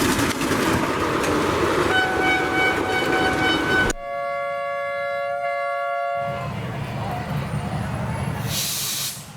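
A train rumbles past with a long, loud horn blast sounding over the clatter, then the horn stops and the rolling noise of the cars continues close by.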